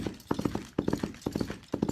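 Foley hoofbeats imitate a galloping horse for film, quick groups of hollow knocks repeating in a steady rolling rhythm, close and fairly quiet, with no voices.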